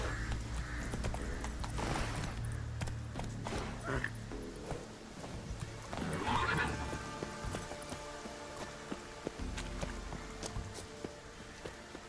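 In The Witcher 3, the horse Roach's hooves clip-clop as she moves, with a brief whinny midway, mixed with game ambience and a voice speaking.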